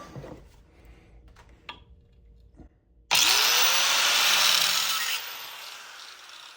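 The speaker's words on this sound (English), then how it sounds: "So I'm gonna grind these down a little bit" A power tool grinds down a car's clutch and brake pedals, starting abruptly as a loud, steady high-pitched whine after some quieter handling noise, then easing slightly toward the end.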